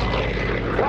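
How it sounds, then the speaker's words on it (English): Pratt & Whitney radial engine of an FG-1D Corsair fighter at an airshow, a loud continuous propeller drone holding steady throughout with a faint rising whine near the end. "the sound of that Pratt & Whitney engine tell the story of the greatest generation"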